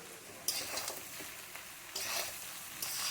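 Cooked rice is stirred in a pan with ghee, cashews and raisins, giving a soft continuous sizzle broken by scraping bursts of the spoon as the grains are turned, close and fairly quiet with no voices.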